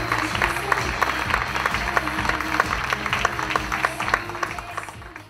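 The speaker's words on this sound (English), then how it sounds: "Please put your hands together, give a warm welcome, round of applause for Dr. Jessica Gallagher." An indoor audience at a talk applauds a speaker being welcomed, with dense, even clapping that holds steady throughout, moderately loud and close.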